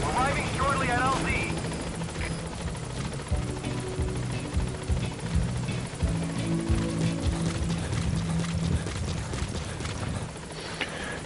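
A support helicopter in the video game MGSV flies in toward a landing zone, its steady rotor wash a loud, continuous churn that runs throughout, with brief radio chatter and game sounds layered over it.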